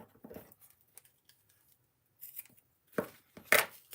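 Scissors snip away excess paper while decorating a shabby-chic Valentine 3D phone craft, a few soft cuts early, then two or three sharper, louder snips near the end, with quiet gaps between.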